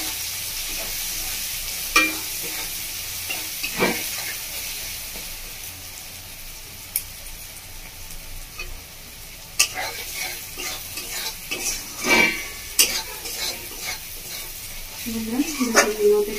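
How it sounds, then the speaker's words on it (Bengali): A spice masala of onions, Kashmiri chilli powder and turmeric fries in a pan for Bengali-style chicken kosha. A steady sizzle runs throughout, broken by repeated scraping and clacking of a spoon as it is stirred, close by. "মশলাটাকে পেঁয়াজের সাথে ভালো করে কষিয়ে নেবো।"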